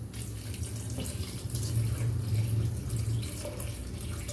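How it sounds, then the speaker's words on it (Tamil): Tap water runs into a pot for dal in a kitchen, a steady splashing stream that swells in the middle, with no voices. "இதுக்கு தேவையான அளவு தண்ணி."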